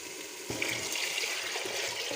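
Water is poured into a pot of mixed moong and masoor daal, a short, close splashing stream that runs for about two seconds.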